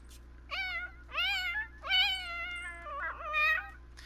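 Several distinct cat meows from a Sims 4 game, five drawn-out calls in an irregular rhythm over a steady low hum, clear and fairly close with no talking.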